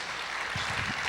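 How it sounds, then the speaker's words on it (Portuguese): A church congregation claps steadily and densely throughout, a continuous wash of applause with no pauses. "Pode aplaudir o Senhor."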